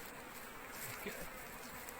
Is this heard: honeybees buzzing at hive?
yes